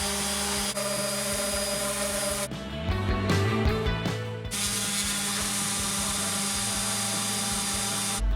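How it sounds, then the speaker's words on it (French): A power sander runs steadily on a wooden desk lamp with a loud mechanical whine that briefly shifts and rattles as it presses against the wood, then resumes its even drone, with no talk. "je vais venir d'abord poncer le tout"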